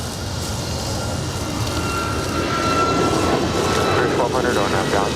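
A jet airliner on a runway at LAX spools up for takeoff with a loud, broad engine roar that builds steadily, while voices talk over it throughout.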